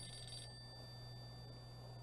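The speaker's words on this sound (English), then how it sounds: "That is my telephone ringing, isn't it?" A telephone ringing in an old radio drama, a short bright electric bell burst that cuts off quickly, faint and alone over a steady background hum.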